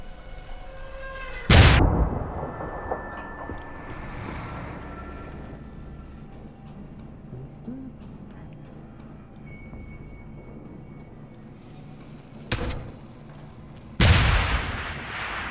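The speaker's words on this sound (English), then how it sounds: "Grenade launcher." Heavy blasts from a grenade launcher in a video game, three loud booms, one at the start and two near the end, each with a rumbling tail over a low, steady background drone.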